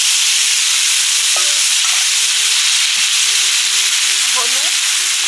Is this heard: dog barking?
no